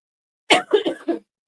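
A few short, harsh coughs close up, three or four bursts in quick succession, then quiet.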